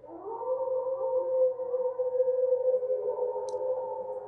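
Dogs howl in a Jujutsu Kaisen anime episode, a long, steady, wavering tonal howl that sustains for several seconds, loud and alone with no talk over it.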